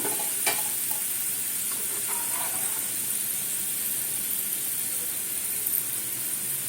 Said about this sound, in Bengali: বাকিটা ভাজছি আমি ওই একইভাবে